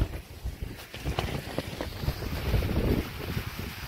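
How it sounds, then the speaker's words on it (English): Wind gusts across an exposed moorland hillside at a wild camp in constant rain, buffeting the microphone in loud, uneven roaring surges that swell and ease throughout. "As you can see, it's windy."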